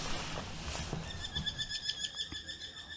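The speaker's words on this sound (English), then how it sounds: "Oh, the birds are excited." Birds chirp outdoors with a steady, repeating high twittering that builds over a noisy background, fairly close and continuous.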